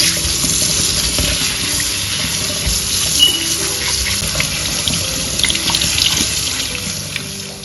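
A kitchen tap runs loud and steady as strawberries are washed beneath it, the close splashing gush continuing for the whole stretch with small variations from the fruit being handled, and no one talks.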